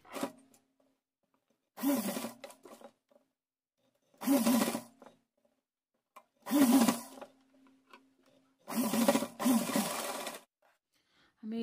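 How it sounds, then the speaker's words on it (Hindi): Sewing machine stitching a cotton summer dress, running in four separate bursts of about a second each with quiet pauses between, close and steady with no talk. "डोरी लगा करके इसको एडजस्ट करते हुए सिलाई लगाएंगे"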